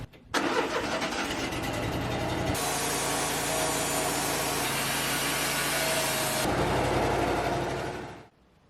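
A sawmill takes a skim pass along a cedar log, its engine roaring loudly and the blade cut swelling into a harsh, dense whine for several seconds before settling back and shutting off.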